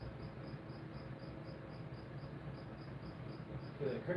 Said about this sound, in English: The cricket's getting irritating.